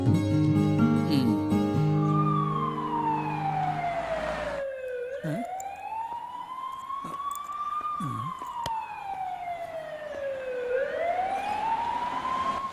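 An ambulance siren wails, its pitch sweeping slowly up and down in long cycles, loud and steady over road noise, with a few faint knocks underneath.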